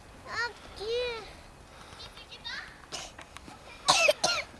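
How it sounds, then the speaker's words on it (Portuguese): A child coughs a few times in short bursts amid other children's voices and playful squeals, fairly faint and close, with speech around it. "Aí, com tosse já."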